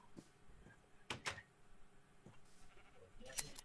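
Minecraft sheep bleat faintly a few times amid soft clicks and knocks, the short nasal calls scattered across the stretch at low volume, no talk.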